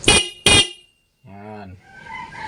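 Two short loud bursts are followed by a single nasal honk from a car's stock horn lasting about half a second, then faint fading noise.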